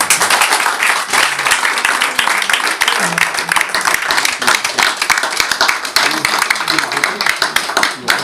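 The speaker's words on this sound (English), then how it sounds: "would you give a round of applause to Dr. Humphrey Crookendale?" Dense, loud clapping from an audience at a 2016 Black History evening in Brooklyn greets Dr. Humphrey Crookendale, a steady crackle running the full length with a faint murmur of voices underneath.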